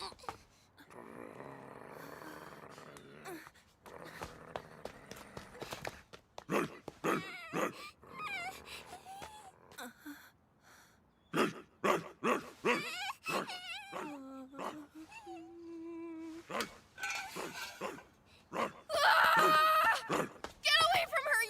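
A dog barks and whimpers in a dubbed anime scene, with short yelps and whines mixed among frequent voices and scuffling, at moderate level throughout.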